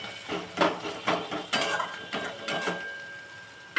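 Spices being sautéed in a pan, stirred hard with a metal spoon: rhythmic scraping and clattering strokes, roughly six of them, close and moderately loud, with a thin hiss underneath.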